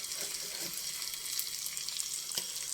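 Ingredients for a mango garlic pickle frying in hot oil, a close, even hiss of sizzling with a few light stirring clinks, one sharper clink near the end.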